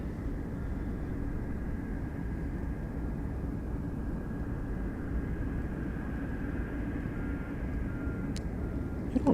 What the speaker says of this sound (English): we have an arrival on runway 33